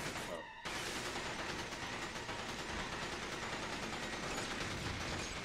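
Turret gun firing in the video game From Russia With Love, a continuous dense barrage of rapid shots that starts after a brief gap and hammers on steadily without pause.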